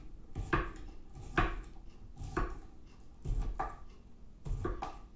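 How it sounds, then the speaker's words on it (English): A knife slicing ham, about five evenly spaced cutting strokes, each a short crisp scrape against the board, close and fairly quiet with nothing else around them. "it does not a bad job at cutting up the ham"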